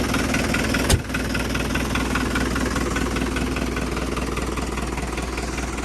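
A diesel tractor engine idles with a steady, low, chugging rumble, broken early by a brief sharp knock, then continuing evenly.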